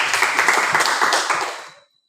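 Students in a classroom clap together for a classmate in a short burst of brisk, fairly close applause that trails off quickly into silence.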